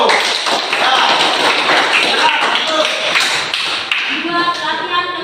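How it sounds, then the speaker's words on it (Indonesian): A group claps hands in applause after a fitness exercise, a loud, dense burst of overlapping claps with voices mixed in and a tapering finish. "Luar biasa, tepuk tangan dulu."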